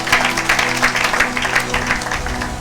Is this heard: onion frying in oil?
no